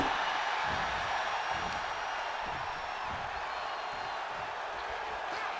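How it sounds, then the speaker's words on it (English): Arena crowd noise from the WWE 2K26 wrestling game, a steady broad roar of cheering fans that holds at an even level throughout with no clear peaks. "The WWE Universe is showing their appreciation for the action they're seeing."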